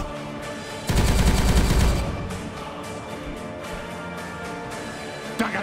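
Gunfire in the strategy game Warhammer 40K Regicide: a loud, rapid automatic burst lasting about a second, followed by scattered quieter shots and clanks, with a final sharp report at the end.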